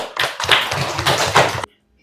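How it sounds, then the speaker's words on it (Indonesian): A classroom of students claps together in a brief, dense round of applause lasting about a second and a half, fairly close and lively, then cutting off abruptly into quiet. "Tepuk tangan dulu."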